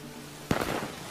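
A single gunshot rings out in Red Dead Redemption 2, one sharp loud crack with a short rumbling tail, alone against a low steady game background.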